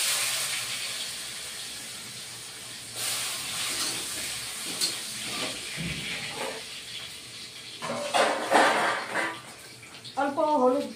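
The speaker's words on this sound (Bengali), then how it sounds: "আগে আলুটা একটু ভেজে নিই" Potatoes frying in a pan for a bitter gourd chorchori, a steady hissing sizzle running throughout, with a few clinks and a voice speaking over it near the end.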